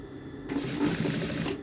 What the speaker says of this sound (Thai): เย็บเร็ว ถ้าเย็บเร็วแล้วมันจะพลาดได้ เย็บช้าๆก็ได้ไม่มีใครว่านะคะ